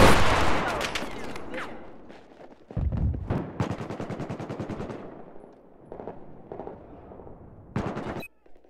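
Gunfire in Battlefield 4, with bursts of automatic weapon fire and sharp single shots, loud and close at first, then scattered rattling volleys and a final burst.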